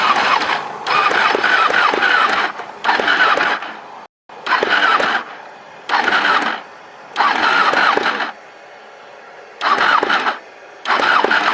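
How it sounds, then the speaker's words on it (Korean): A Ducati Panigale 1199 motorcycle engine is repeatedly cranked, each attempt a loud rough whirring burst lasting a second or two, separated by short silences. "배기음 한번 들어봐야죠"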